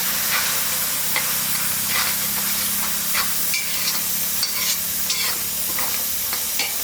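Onion and tomato paste sauté with turmeric in a pan for a ghee chicken pepper fry, giving a steady close sizzle with frequent scraping stirs and hiss, no voices.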